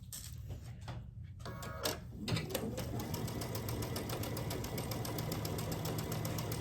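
A sewing machine stitches quilt block fabric in a steady, continuous whir with a fast rhythmic tick, close and fairly loud, after a few brief handling noises at the start.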